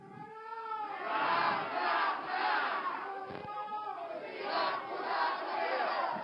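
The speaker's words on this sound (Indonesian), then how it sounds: "kita juga akan mendengarkan bagaimana dukungan yang diberikan oleh pendukung pasangan calon nomor urut" Supporters of candidate pair number 2 cheer and shout together at a 2024 regent and vice-regent election debate in Tanah Karo, a loud, sustained crowd roar with rising chant-like cries throughout, no speech over it.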